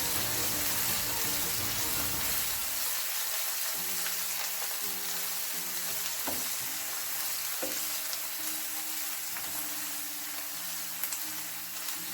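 Tomato and coriander chutney frying in a pan as fresh coriander is stirred in, a continuous close sizzle with soft scraping stirs and occasional spoon knocks.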